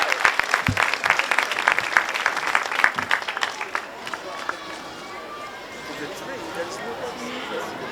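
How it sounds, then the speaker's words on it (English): An audience at an outdoor Portugal Day flag-raising ceremony claps loudly for several seconds, then the applause fades to a scattered patter beneath a speaker's voice. "Let's give him a round of applause."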